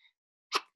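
A single quick, quiet sneeze bursts out in two short parts after a moment of silence.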